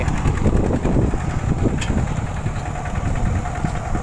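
A Thai RT100 walking tractor engine pulling a disc plough, chugging steadily with a low, knocking idle-speed rhythm, loud and close throughout.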